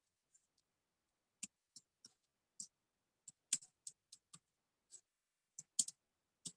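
Someone types a short note on a computer keyboard, with scattered light key clicks in small irregular bursts, quiet and close, and no talk over them.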